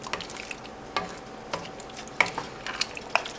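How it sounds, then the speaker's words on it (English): A spoon stirs turkey chili in a pot over a soft sizzle, with a series of separate scraping and clinking strokes spaced about half a second apart, fairly faint and with no talk. "we're gonna give it a stir"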